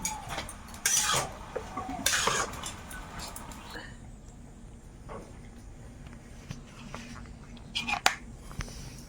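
Fried shrimp being stirred into leafy greens in a pan, with a few distinct scraping, clattering stirs near the start and light utensil knocks later, under quiet background hiss.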